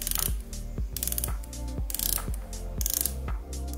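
Close-up ratcheting clicks come from the rotating bezel of a Zelos Swordfish 'Ember Orange' dive watch, turned in several quick bursts of crisp mechanical detents with short pauses between them.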